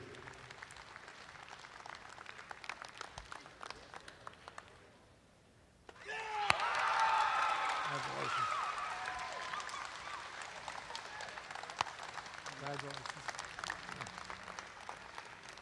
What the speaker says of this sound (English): give these juniors a big round of applause